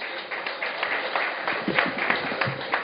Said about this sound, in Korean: 큰 박수 맞이해 주십시오.